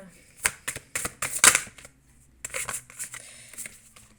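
Cards are shuffled and drawn for a reading in a series of crisp, close riffling bursts. Brief pauses separate the bursts before another few snaps and slides of cards.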